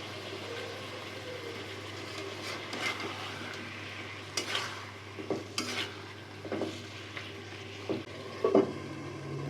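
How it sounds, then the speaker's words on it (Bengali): A low steady sizzle of beef cooking in a pan with ground roasted cumin, with intermittent metal spoon scrapes and clinks as it is stirred, close by. "এবার ঢেকে দিয়ে কষিয়ে নেব ভালো করে মাংসটা ভালোভাবে কষিয়ে নিচ্ছি"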